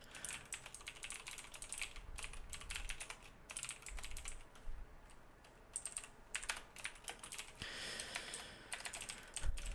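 Rapid typing on a computer keyboard while writing code, close and quiet: irregular bursts of clicking keys with brief pauses, no talk.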